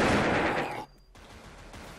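A short burst of loud, rapid gunfire in the online shooter Wolfteam, then a brief near-silence before quieter game ambience resumes.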